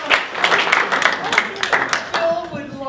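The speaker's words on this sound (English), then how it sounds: "Give her a round of applause and everybody else." Audience applause at a live stage show, a burst of clapping through the first two seconds that thins out as a voice begins talking over it near the end.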